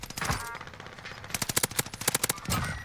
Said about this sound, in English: We're shooting all these guys on the side right now.